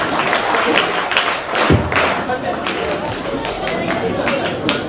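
Loud applause fills a school alumni gathering, a crowd clapping steadily and densely throughout with a few thumps and scattered chatter mixed in.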